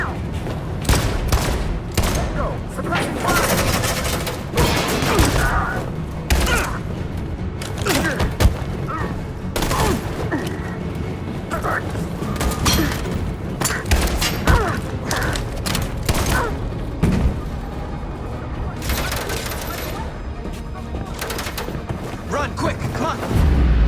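Dense in-game gunfire and booming impacts from Detroit Become Human, a continuous barrage of shots layered with mechanical noise and shouted voices throughout.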